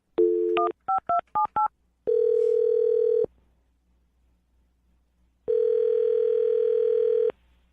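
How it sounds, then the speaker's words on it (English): Rapid touch-tone beeps dialing a number, followed by two long, steady ringback tones separated by silence. "I'm going to dial this phone number right now."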